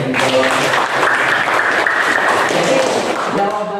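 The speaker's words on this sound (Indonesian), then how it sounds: "Oke, tepuk tangan juga ya" Classroom applause from students in an Indonesian physics lesson, a dense continuous patter of clapping lasting several seconds, with voices mixed in beneath it.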